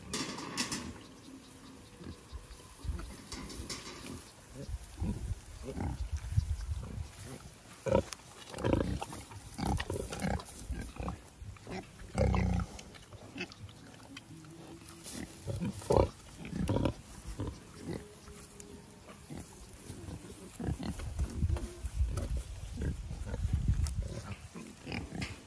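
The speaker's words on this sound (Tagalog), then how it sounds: "Pakainin ngayon ng ating mga baboy" Native pigs at feeding time in a free-range area make repeated grunts, snorts and oinks, close by and irregular, with chewing and shuffling noises and a few faint bird calls.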